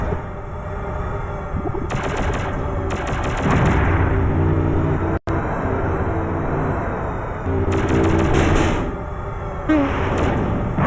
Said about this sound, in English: Oh man, that missile sound.